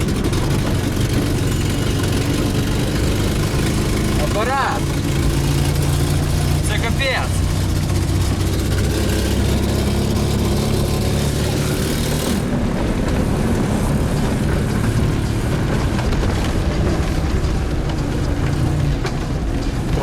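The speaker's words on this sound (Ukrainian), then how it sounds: "Мотор реве капець, даю газу машина не їде." A battered VAZ 2107 Zhiguli car roars loudly as its engine is revved while driving, yet the car barely gains speed. Its steady heavy drone fills the whole stretch, with voices talking over it.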